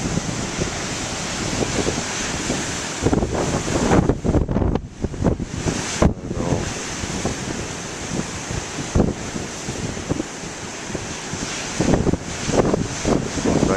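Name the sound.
big ocean waves splashing in wind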